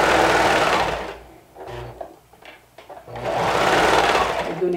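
A serger overlock sewing machine with a worn blade runs in two loud bursts of fast mechanical whirring, with a quieter pause and some clicking and handling between them.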